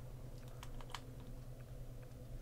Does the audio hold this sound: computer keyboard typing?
yes